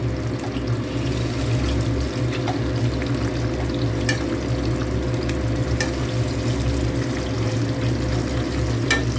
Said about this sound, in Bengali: এইভাবে সব কটা মাছ ভালো করে সুন্দর করে ভেজে নেব।